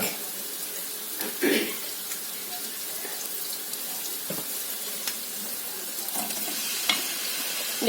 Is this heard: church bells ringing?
no